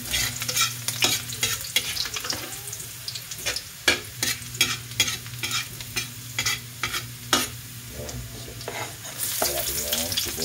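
Garlic fries in a pan for Bicol Express and is stirred steadily, its continuous sizzle broken by repeated, close scraping strokes of a utensil against the metal.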